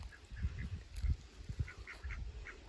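Ducks at their backyard water pool give soft, faint quacks and honks, scattered in short bursts over a quiet outdoor background.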